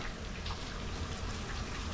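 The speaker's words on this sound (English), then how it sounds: "Literally, it's raining all week." Steady rain falls outdoors in a continuous, even hiss of dense drops, with no voices over it.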